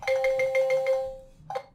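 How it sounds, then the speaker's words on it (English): A mobile phone rings during a tabletop game of Mage Knight, a rapid series of bright electronic tones repeating about five times, then a sustained note and a brief final chirp, fairly loud and close with no talking. "Oh, that's my phone."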